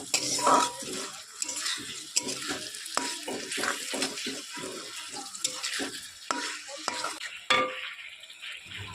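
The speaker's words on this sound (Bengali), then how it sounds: "টমেটো কুচি আর লবণটা দিয়ে কিন্তু আমি মশলাটাকে আবারও একটু নাড়াচাড়া করে নেব" Spice paste with chopped tomato and salt being stirred in a pan, repeated scraping and clinking strokes of a utensil over a soft sizzle, close and irregular in rhythm.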